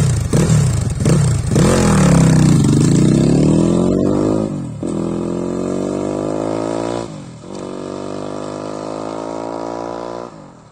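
A Crossfire RM 250 motorcycle engine revs loud and close, climbing through several long rising throttle pulls, each dropping back before the next climb, with mechanical clatter underneath.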